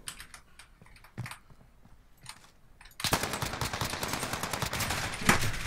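Uzi submachine gun firing in Call of Duty Modern Warfare Search and Destroy, rapid full-auto bursts beginning abruptly after a stretch of faint clicks and sustained loudly to the end.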